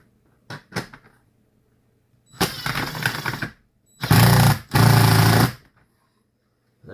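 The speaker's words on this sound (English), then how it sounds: "As you can tell by the sound of the drill, I hit the wood beam up there" A power drill whirs in a few short bursts, the later two louder and longer as it bites into an overhead wood beam, separated by silence.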